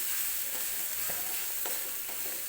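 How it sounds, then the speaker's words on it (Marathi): Spices, onions and tomatoes frying in a pan for a dal kanda dish with matki dal, a continuous close sizzle with a few soft stirring scrapes and no talking. "आता हे व्यवस्थित आपल्याला सगळं कांद्यासोबत भाजून घ्यायचं आहे"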